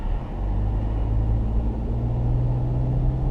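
Inside a car crawling through slow Sunday night traffic in Belgium, a loud, steady low engine and road rumble holds constant throughout, with no voices.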